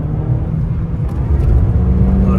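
A Ford Cougar 2.0i 16v coupe accelerates through a curve, its engine giving a loud, steady, close-up drone and rumble that builds slightly toward the end.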